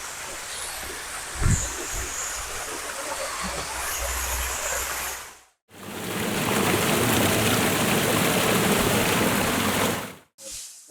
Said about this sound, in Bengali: এখান থেকে ঝর্ণার ঝিরিঝিরি শব্দ পাওয়া যাচ্ছে।